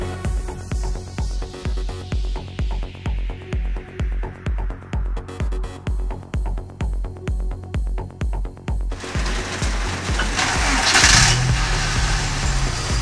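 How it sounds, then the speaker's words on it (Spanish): Volkswagen Pointer car with a starting and unstable idle problem cranking in a rhythmic repeated starter chug for several seconds, then catching and revving into a steady running engine with a brief rise in noise near the end. "El auto ha arrancado bien."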